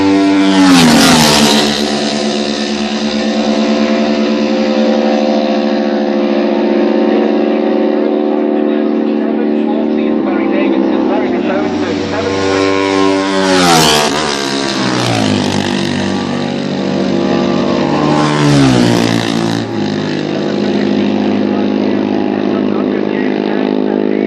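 Racing motorcycles, including four-cylinder Honda machines, scream past one after another during a race, loud and close, with engine pitch rising and falling as each bike passes, under a commentator's continuous talk.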